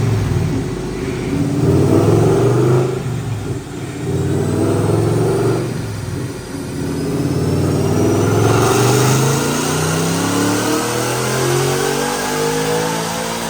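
Roush supercharged 2019 Ford Mustang GT V8 on a dyno, the engine roaring loud and close as it revs up through repeated climbing pulls with the supercharger whine rising, and no talking.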